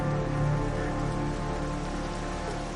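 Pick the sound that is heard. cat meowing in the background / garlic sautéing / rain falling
rain falling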